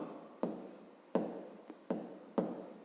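A pen writes on paper during a 5th grade math lesson, giving several quick, close scratching strokes with short pauses between them, quiet and without speech.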